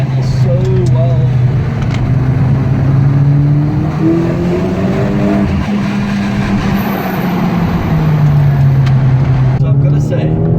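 Inside a Corsa OPC on the road, the engine hums loudly and continuously, its pitch gently rising and falling with throttle changes throughout.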